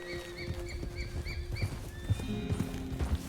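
Wild horses in Red Dead Redemption 2 with steady hoof clip-clop, a few faint whinnies over a low game ambience, and brief talk at moments.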